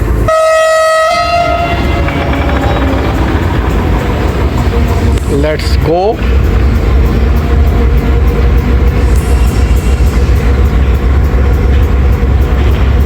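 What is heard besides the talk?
Karachi Express train departing station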